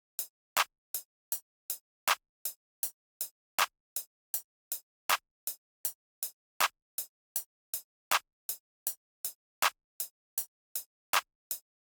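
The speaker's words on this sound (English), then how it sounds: "Next up is just a standard clap." Standard clap drum sample in a trap-style beat, sharp bright hits repeating steadily about every half second with occasional louder accents, dry and close, no voices.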